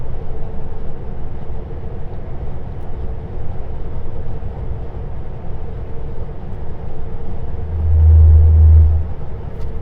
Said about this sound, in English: I like the rumble strip